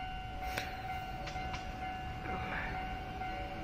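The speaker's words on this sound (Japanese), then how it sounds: "スピード的には快速だな、あれ多分。" A JR train runs through Uozumi station during the morning rush, a faint, steady rail rumble with a high tonal whine and a few brief clanks, heard from a distance on the platform.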